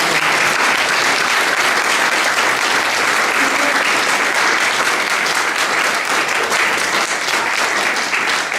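A community co-op meeting audience applauds, a dense, steady wash of clapping from many hands that goes on for several seconds without a break.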